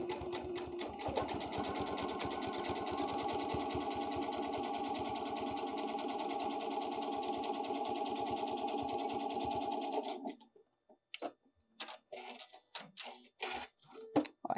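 A sewing machine stitches a wide zigzag across fabric in a fast, steady, close-up whir lasting about ten seconds, then stops, followed by a few light clicks and handling noises.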